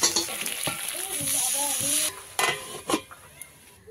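Large taro pieces sizzling and frying in a pan after a little water is added, a bright crackling hiss with spoon stirring and a few sharp clinks near the end.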